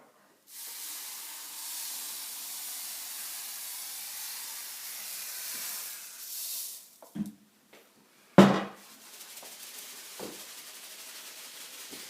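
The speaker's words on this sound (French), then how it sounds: "je vais commencer à verser ma limaille de fer" Iron filings for a freediving lead collar pour in a long, soft, steady hiss for several seconds. A few sharp knocks and a loud clunk follow, then quieter rustling.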